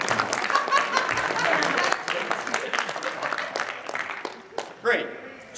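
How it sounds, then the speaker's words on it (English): Scattered applause with sharp individual claps, fading after a couple of seconds, followed by a few isolated hand claps and a brief voice near the end. "You should applaud."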